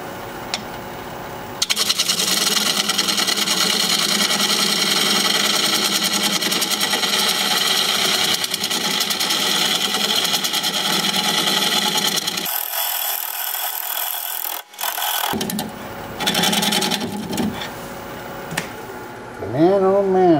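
A wood lathe turns an elephant foot bowl of mixed soft and hard wood, the tool scraping and rasping loudly and continuously, then cutting out abruptly before the grinding resumes in shorter bursts.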